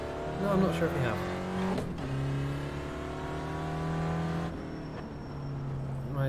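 Race car engine in the iRacing sim game, a steady droning motor with shifting pitch and a gear change partway through, heard under someone talking throughout.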